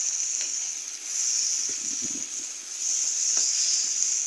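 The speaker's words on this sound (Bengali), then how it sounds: "এবারে কুচনো পেঁয়াজগুলো দেবো। পেঁয়াজটা একটু ভেজে নেব।" Chopped onions frying in a pan give a steady, bright sizzle with a constant hiss, joined by soft scraping and stirring sounds. No one talks over it.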